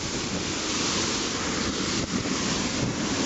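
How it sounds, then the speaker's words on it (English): A rushing waterfall roars close by at a creek, a dense, steady broadband wash of falling water with no voices. "Get around here so I can get behind this waterfall"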